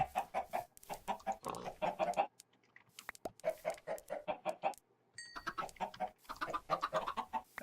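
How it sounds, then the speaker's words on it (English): Chickens cluck over and over in a video game, a steady run of short, close clucks with a brief quieter gap partway through. "hate the little chickens that get stuck in the fencing."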